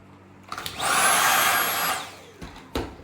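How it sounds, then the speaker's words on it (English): Vacuum cleaner running close by for about a second and a half, a steady whine that rises and cuts off, clearing sanding dust from a door being prepared for paint. "Then I'll vacuum it. Get all the dust and dirt off."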